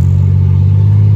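A 1988 Ford Bronco II engine held at full throttle after an ignition module replacement, a loud, steady low roar that stays sustained and unbroken close by, with no speech.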